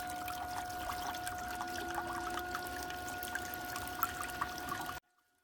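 A steady, fairly quiet stream of water running from a hose onto a sluice mat splashes continuously, then cuts off abruptly near the end.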